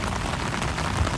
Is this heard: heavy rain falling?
yes